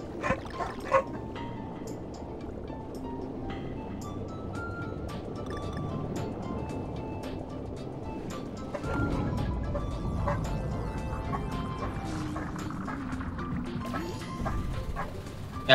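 Dogs in a five-dog household bark and yip in short, scattered bursts over a steady background hum, most of them at a moderate distance, with no speech.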